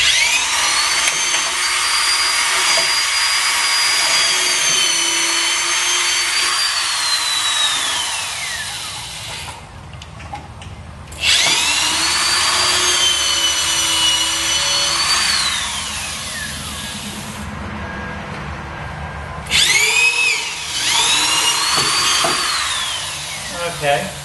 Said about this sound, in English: Okay, now we drilled the rivets out.